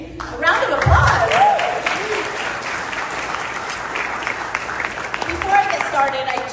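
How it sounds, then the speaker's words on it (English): An audience at an ISSA conference breaks into sustained applause, a dense wash of clapping filling the room, with cheers and voices mixed in throughout. "A round of applause."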